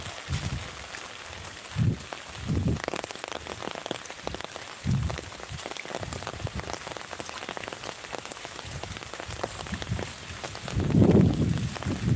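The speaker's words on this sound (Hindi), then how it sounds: "अभी देखो बारिश कितना आ रहा है, अभी भी हो रहा है बहुत बारिश, बहुत तेज।" Heavy rain pouring steadily onto surfaces near farm fields during monsoon flooding, a dense continuous hiss with scattered louder drops and patter, and occasional low thumps and rustles close by.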